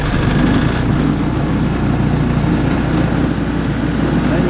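An MEP 802A military diesel generator runs steadily up close, a loud continuous low engine drone with a rhythmic mechanical throb and no pauses.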